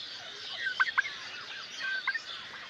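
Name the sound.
farm turkeys and chickens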